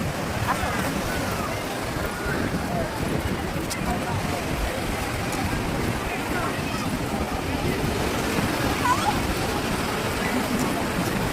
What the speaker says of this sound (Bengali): দেখো সুন্দর ঢেউ দিচ্ছে